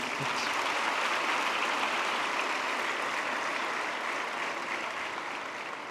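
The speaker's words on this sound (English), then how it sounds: "So a big round of applause for them once again." Audience giving a round of applause for farmers at a nutrition event, a broad, even wash of crowd clapping heard from some distance, fairly quiet and fading slightly at the end.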